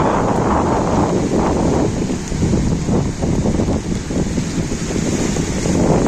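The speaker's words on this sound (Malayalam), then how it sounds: "നല്ല കാറ്റും മഴയുണ്ട് അതായിരിക്കും" Strong wind at sea buffets the microphone in a loud, continuous roar, with surf churning beneath it, during rain.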